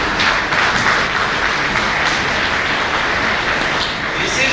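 Loud, dense applause from medical students at a white coat ceremony in a medical college hall. The clapping rolls on continuously at an even level from start to finish, with no break.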